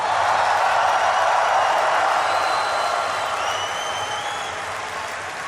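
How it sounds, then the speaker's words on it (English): A large audience at the BlizzCon 2013 opening ceremony cheers and applauds in a dense, continuous roar that eases off slightly toward the end. "I want everyone here to give a big cheer to all of your friends watching at home"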